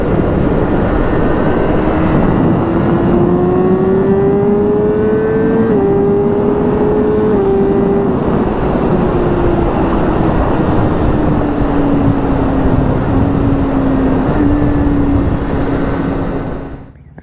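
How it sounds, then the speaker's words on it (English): A BMW S1000RR HP4 motorcycle with a quick shifter accelerates hard on a highway, its engine whine rising in pitch through several quick, clean gear changes, loud and close with wind rush, before fading at the end. "Let's just get a little bit higher RPM on the highway for a second, and we'll make sure that the quick shifter is working good."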